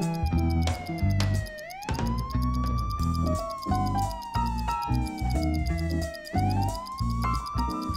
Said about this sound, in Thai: พวกเขาได้ยินเสียงไซเรนของรถตำรวจ